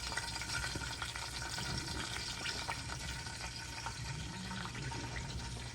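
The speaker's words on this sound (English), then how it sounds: "I'm gonna put this pork belly skin down in this oil. Let's see if I can get it to fry up a little crispy." Pork belly skin frying in hot oil, giving a dense, steady crackle and hiss that stays loud and even throughout with no voices.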